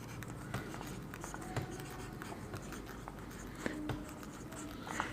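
Pen or marker writing names by hand during a Haryana politics lesson, a steady scratching stroke texture with small taps, close and fairly quiet, with no talk.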